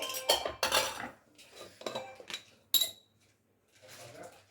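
Spoons and dishes clink and clatter in a home kitchen, several sharp metallic knocks and rattles in irregular bursts with brief pauses, close by and without talk.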